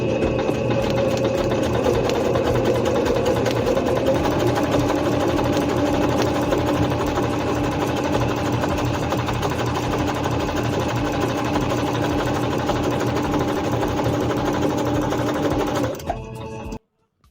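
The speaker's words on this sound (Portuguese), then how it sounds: "Posiciono o tecido na máquina, abaixo a sapatilha e faço 2 costuras paralelas." A Singer C5605 electronic sewing machine runs steadily as it stitches parallel seams in fabric, a close, even mechanical whir that stops abruptly near the end.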